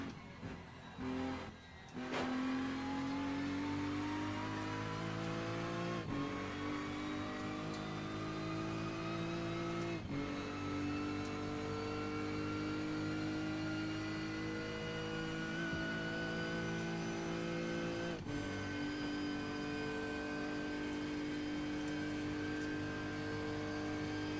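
Several TCR touring race cars lap the Nürburgring Nordschleife in a racing game, engines droning loud and steady with rising pitch through gears, brief dips at shifts around a few points, continuous close-up engine roar without talk.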